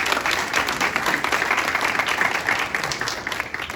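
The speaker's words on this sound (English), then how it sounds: "Let's give them a round of applause for that." An audience claps in sustained, even applause at an arts council budget presentation, a dense wash of many hands continuing for the whole few seconds without any voices.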